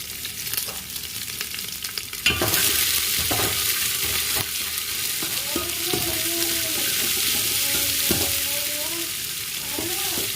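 Small onions are sautéed and stirred in oil for bitter gourd kuzhambu. A loud sizzle swells after a sharp clack, and spoon scrapes and knocks recur over the frying with no talking.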